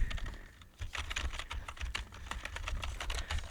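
Rapid keystrokes clatter on a computer keyboard at a walk-in clinic desk, a close, soft run of irregular clicks with a brief pause near the start.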